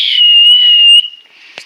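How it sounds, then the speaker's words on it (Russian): A single loud, sharp human whistle held steadily for about a second on one high piercing pitch, then fading, heard close and alone with no talk. "Сегодня снимаю видео, как громко свистеть."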